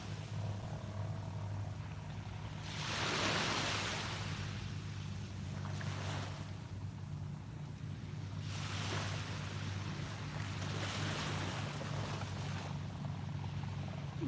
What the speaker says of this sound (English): Yeah, I love the baby waves too.